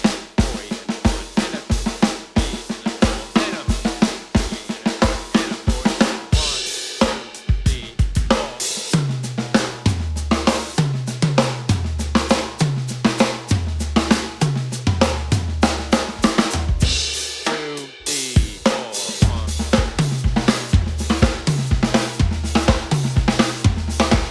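A drum kit plays a steady, dense groove of rapid paradiddle sticking cycled in groupings of six, with punchy bass drum hits underneath throughout.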